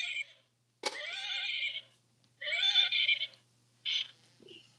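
A horse whinnies in several separate calls with short silent gaps between them, close and clear against a quiet background.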